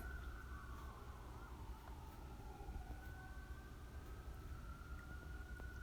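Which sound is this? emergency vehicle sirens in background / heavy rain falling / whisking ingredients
emergency vehicle sirens in background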